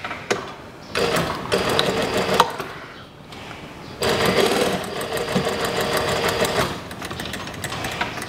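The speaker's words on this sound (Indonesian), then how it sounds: "Sudah saya jahit dari pinggir ini" A sewing machine stitches a pleated sleeve cuff in loud, rapid mechanical bursts close by, running about 1.5 seconds, then again for nearly 3 seconds, with short quiet gaps between the runs.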